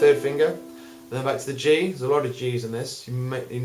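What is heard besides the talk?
No distinct noise like a dog, phone or traffic.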